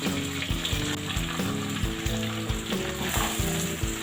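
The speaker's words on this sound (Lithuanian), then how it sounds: "sviestas ištirpo ir ant vidutinių dujų kepsim, troškinsim mūsų svogūnus" Onions frying over medium gas in melted butter, a loud continuous sizzle broken by regular rhythmic stirring strokes of a utensil against the pan, heard up close with no talking.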